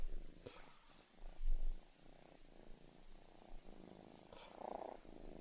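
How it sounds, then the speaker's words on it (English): A house cat purrs steadily near the microphone in a quiet room, a low continuous rumble with soft rhythmic swells and a few faint bumps. "This is the cat."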